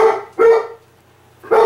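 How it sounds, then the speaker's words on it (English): A dog barks outdoors in three loud bursts, two close together and one after a short pause, with no talking. "One of the dogs is barking outside."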